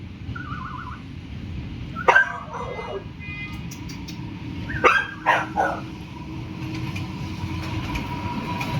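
A dog barks in two short bursts, a few seconds apart, over a constant low rumbling background.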